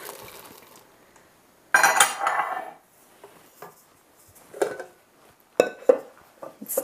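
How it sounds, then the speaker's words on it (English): Chocolate chips and white chocolate chunks being stirred by hand into triple chocolate biscotti dough in a bowl, with bursts of scraping and clinking from the spoon against the bowl between quieter pauses. "Now we're ready to stir in our chips by hand."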